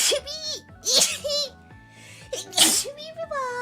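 A person sneezes repeatedly with sharp bursts, each gasping buildup followed by an explosive release, interspersed with short voiced sounds and talking in between.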